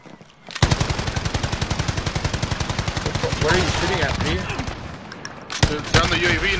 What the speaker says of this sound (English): I'm just fucking shooting at them right there,